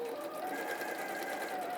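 A sewing machine stitches fabric with a steady, fast mechanical whir and rapid needle ticking, running continuously at moderate volume.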